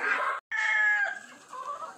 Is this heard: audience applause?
no